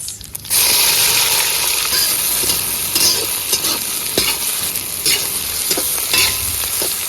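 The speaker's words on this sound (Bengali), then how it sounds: "পেঁয়াজটা সুন্দর ব্রাউন করে ভাজে নিছি" Onions fry in hot oil with whole garam masala, cumin and bay leaf, a loud continuous sizzle broken by repeated scraping stirs of a utensil in the pan.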